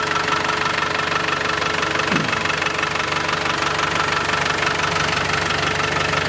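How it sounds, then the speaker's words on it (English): A 1987 Land Rover Defender 110 with a 2.5 liter turbo diesel engine idles steadily, giving a loud, even diesel knock heard up close with no talking. "turbo diesel engine."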